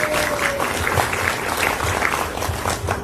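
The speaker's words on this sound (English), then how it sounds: "can we give some love and a round of applause for our venue" Crowd at a campaign event at the Crooked Thumb venue applauds, steady dense clapping at close range with scattered cheers, continuing evenly throughout.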